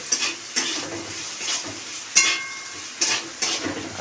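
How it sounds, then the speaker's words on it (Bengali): Potatoes frying with spices in a pan at home, a steady sizzle broken by several scraping stirs of a spatula against the pan, close and loud with no talk. "এখন আলুটাকে ভেজে নিচ্ছে সব রকম মশলা দিয়ে"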